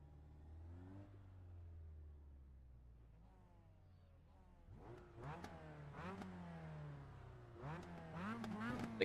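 Engine of a Mazda MX-5 Miata in a racing video game, faint at first and then revving up repeatedly through rapid gear changes, with a high, buzzy tone.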